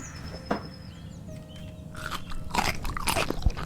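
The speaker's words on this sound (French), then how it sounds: "ça croustille les sardines" Crunchy chewing of sardines in a video game, a run of crisp bites and crunches growing denser and louder toward the end, with a faint bird-like whistle and a thin tone in the background.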